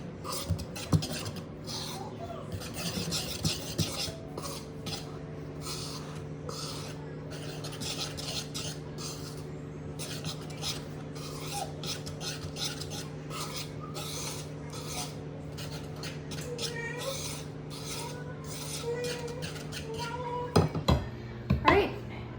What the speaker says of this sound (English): now I'm gonna whisk that together